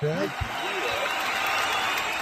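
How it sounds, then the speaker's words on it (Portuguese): Audience applause and cheering at a Brazilian podcast taping, a dense steady wash of clapping running for the whole stretch, with excited voices shouting over it near the start. "Palmas pra ele!"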